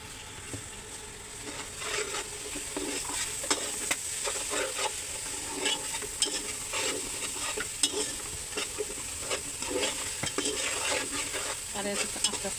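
Eid sacrificial beef fries in a pan with spices, sizzling steadily while a utensil stirs and scrapes it in repeated close clatters.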